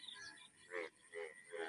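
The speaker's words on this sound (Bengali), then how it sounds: "এই ব্যাঙগুলো মূলত বৃষ্টি নামানোর জন্য এভাবে ডাকছে।" Frogs croak in the rainy season. Three or four soft, throaty croaks follow one another in a loose rhythm, faint and somewhat distant, against a quiet background.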